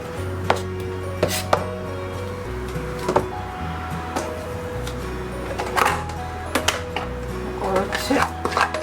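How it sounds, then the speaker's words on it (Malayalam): Onions being chopped with a knife on a board for a beef varutharacha curry, a steady run of sharp, close taps in an uneven rhythm, with someone talking over them. "ഇതുപോലെ ഉള്ളി അരിഞ്ഞെടുക്കാം."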